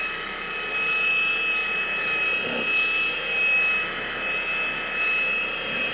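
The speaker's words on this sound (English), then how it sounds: "this machine, along with the polish, scrubs it for me" A polishing machine whirs steadily as it scrubs faded, oxidized plastic with polish, a constant high-pitched motor whine with a faint tonal ring, held at even loudness with no voices.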